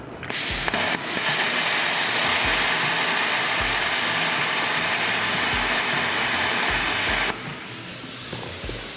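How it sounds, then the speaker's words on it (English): A plasma cutter slices through 3/16-inch mild steel plate hung off the table edge, a loud continuous hiss and roar that runs for about seven seconds before cutting out, leaving a softer hiss behind. "We have a plasma cutter. And it works. 3/16 plate."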